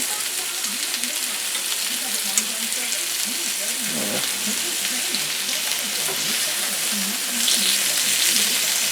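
Green beans fry in a pan, giving a continuous bubbling sizzle with soft gurgling pops and a brief scrape partway through, at steady medium loudness.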